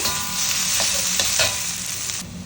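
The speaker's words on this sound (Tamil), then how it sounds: "நல்லா வதங்கட்டும்" Mushroom gravy ingredients sizzle in a pan while a spoon stirs them, a continuous close frying hiss broken by a few scraping strokes, with no talking.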